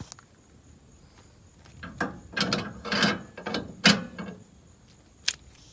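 A trailer hitch receiver lock with rubber ring grommets is pushed into the hitch and locked, giving a short series of close, quiet metallic clicks and ratcheting rattles, then one sharp final click.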